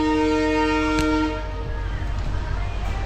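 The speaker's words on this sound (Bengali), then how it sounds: "আমাদের ট্রেন এখন ছেড়ে বেরোবে" A passenger train's horn on the Haldibari–Bamanhat route blares steadily at Bagrakot station, then cuts off, leaving the low rumble of the train starting to pull away.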